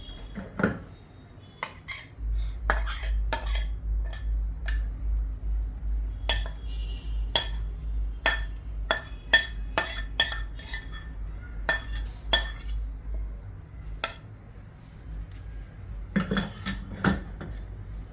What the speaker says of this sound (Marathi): आता मी व्हाईट सॉस मध्ये आधी परतून घेतलेला मशरूम टाकते।